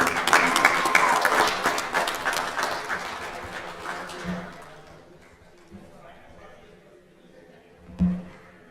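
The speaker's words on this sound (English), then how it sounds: "one more round of applause for the" A round of applause at a city council meeting, dense clapping that fades out over a few seconds into a quiet room with scattered thumps and murmuring voices.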